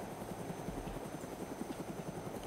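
Helicopter in the video game Arma 2 DayZ Mod, a faint steady rotor thump with rhythmic beating and low engine drone throughout.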